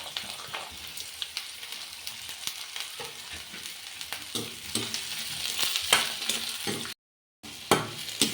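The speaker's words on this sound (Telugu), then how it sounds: "ఇప్పుడు ఉల్లిగడ్డ వేయించుకుందాము" Onions frying in a pan for a village-style bitter gourd and onion masala, a steady broadband sizzle with stirring scrapes throughout, briefly cutting out near the end before resuming.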